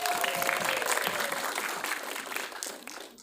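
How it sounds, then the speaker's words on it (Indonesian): A room at a film press conference breaks into applause, dense steady clapping from the crowd that gradually fades over about three seconds. "Tepuk tangan."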